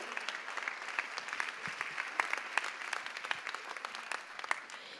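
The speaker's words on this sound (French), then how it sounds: "Raphaël Kamboumba, qui méritent vos applaudissements" An audience claps at a DEMOS youth orchestra concert in Guadeloupe, steady, dense applause of many hands, fairly soft and even, lasting the whole stretch with no voices over it.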